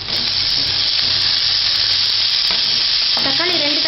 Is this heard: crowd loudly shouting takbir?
no